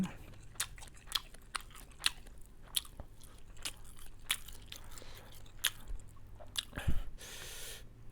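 Someone chews crunchy bones of stir-fried quail close to the mic, with irregular sharp cracks and crunches over soft wet mastication, fairly quiet and without talk.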